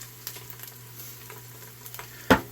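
Onions sizzle softly in a pan while seasonings are added and stirred in. A low, steady fry runs under light scrapes and taps, and one sharper clack sounds near the end.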